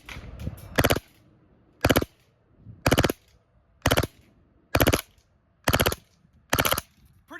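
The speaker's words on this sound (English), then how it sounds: "Let's do some full auto" A Maruyama 5PC Carbine gas blowback airsoft SMG fires in full auto: seven short, sharp bursts at a moderate rate, each a tight cluster of loud cracks with clear pauses between them, no talking.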